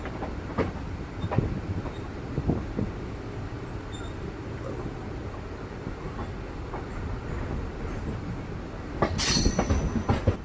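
An Erode–Palakkad MEMU electric train rumbles past on the adjacent track with steady rolling noise, scattered clicks and clanks from the wheels, and a sharper metallic squeal near the end.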